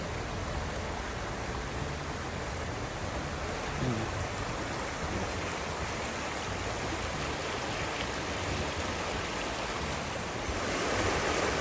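River water rushing over rocks in a flowing mineral-water river: a dense, unbroken roar of moving water at steady, fairly loud level for the whole stretch, with no voices heard.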